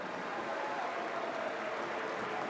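An Inter Miami stadium crowd at a soccer match against Sporting gives off a broad, steady wash of noise and scattered applause as Messi comes off the field, heard distant and fairly quiet.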